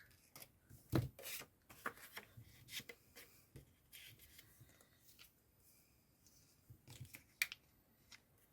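Paper is cut by hand with scissors while making ephemera, producing quiet, close snips and crisp clicks scattered irregularly, mixed with soft rustling and rubbing of the sheets.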